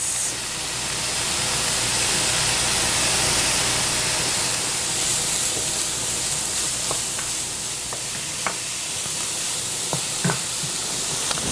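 Onion, garlic and grated carrot sauté in a pan with a steady, loud sizzle that runs the whole time, with a few soft stirring knocks near the end.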